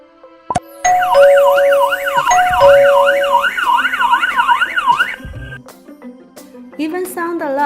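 A Bluetooth device's sound alert rings out loud and near as a warbling, siren-like tone that sweeps up and down steadily for several seconds, then breaks into short beeps.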